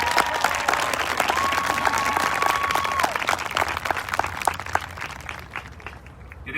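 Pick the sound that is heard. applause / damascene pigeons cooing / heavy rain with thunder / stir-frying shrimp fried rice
applause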